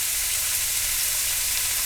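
Beef sizzling while frying in a pan, a loud, dense crackling hiss that runs steadily throughout with no talking.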